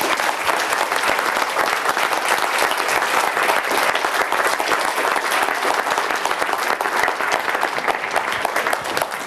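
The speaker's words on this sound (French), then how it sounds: "je vais vous demander d'applaudir nos 3 invités" A conference audience at a French panel discussion applauds three guests with dense, sustained clapping that stays loud and even throughout, without any speech on top.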